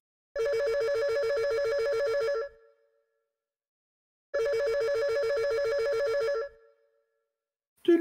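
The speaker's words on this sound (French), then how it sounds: "mais le téléphone sonne" A telephone rings in two long, loud, evenly spaced bursts of trilling bell tone separated by silence, then cuts off as the call is answered at the office of Montreal ghost hunters.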